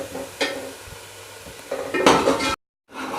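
Kadhi paste frying in a pan, stirred with a utensil that scrapes and clinks against the metal over a steady sizzle, louder toward the end before a brief cut to silence.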